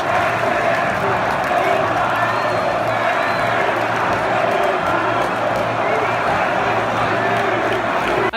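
Atlético football fans in a stadium crowd jeering goalkeeper Fábio during a derby, a dense continuous roar of many voices with shouts and whistles rising out of it, loud and unbroken throughout.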